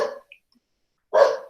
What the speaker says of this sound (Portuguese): os cachorros estão gritando aqui